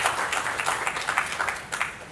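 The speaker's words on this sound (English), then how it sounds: "sorry, to cut their applause short" Audience applause at a medical conference day in Abu Dhabi, steady crowd clapping with flickering individual claps throughout, moderately loud and continuous.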